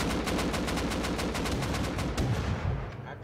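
Rapid automatic gunfire from the video game Rust, a loud, steady stream of closely spaced shots lasting nearly three seconds before trailing off, with no talking.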